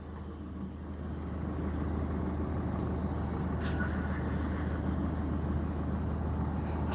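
Traffic idles and creeps in a jam on a coned-off dual carriageway shared with buses and taxis, a steady low rumble of engines with faint distant noises, no talking.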